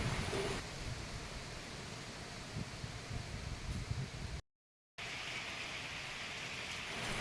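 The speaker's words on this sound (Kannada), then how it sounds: "ಜೋರು ಮಳೆ ಬರ್ತಾ ಇದೆ" Heavy rain pours in a steady, close hiss of drops on leaves and surfaces, briefly cut to silence for about half a second before the downpour resumes unchanged. No one talks.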